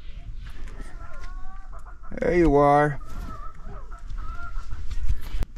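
A buttermilk game hen clucks close by in an aviary, letting out a loud drawn-out squawk midway, while a person speaks briefly.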